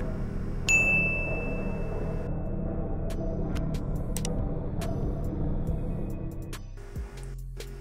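A single bright bell ding rings out early, its tone lingering briefly over a steady low rumble of background music.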